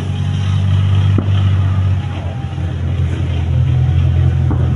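A military tank's engine rumbles loudly and close as it drives off, a heavy low drone that dips briefly before building again.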